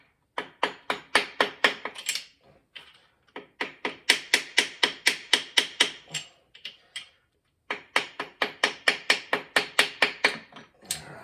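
A brass hammer taps lightly in three quick rhythmic runs of sharp, even knocks, close and crisp, with short pauses between bursts.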